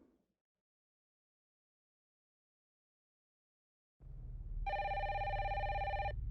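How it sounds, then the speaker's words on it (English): A telephone rings in a game trailer from a Nintendo Direct. Near-silence comes first, then a low hum rises and a bright electronic ring sounds for just over a second, alone and fairly loud. "when I heard the phone ring"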